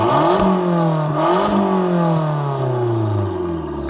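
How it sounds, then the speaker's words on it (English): A small Abarth 695 Biposto Record Edition hatchback revs hard through its titanium Akrapovic exhaust, the engine note rising and falling in repeated sharp blips with crackling edges, close and loud with no talking. "The Okrapovic exhaust sounds absolutely ridiculous. It is, of course, titanium, so it makes for that beautiful noise."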